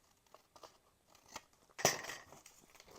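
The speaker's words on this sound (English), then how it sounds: "I'm going to trim this down a little bit" Scissors snip through a paper junk mail envelope in a short, close cut after a few soft paper handling rustles, with no talking.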